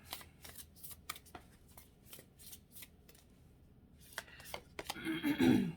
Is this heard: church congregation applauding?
no